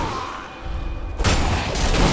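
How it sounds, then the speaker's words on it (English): Explosions in the Diablo III video game burst in loudly and broadband after a quieter stretch, a heavy blast followed by a second surge, with sustained rumbling debris between them. "Explosions!"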